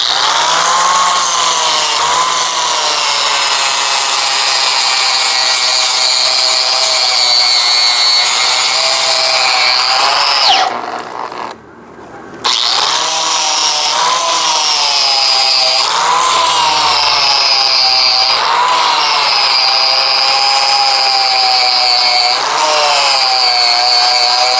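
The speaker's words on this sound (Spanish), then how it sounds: "de disco flag, es un disco de lija." A power tool with a flap disc grinds and sands metal on a Ford Cargo 1721 front axle part with a continuous high, buzzing whine, briefly cutting out midway before resuming at full, close loudness.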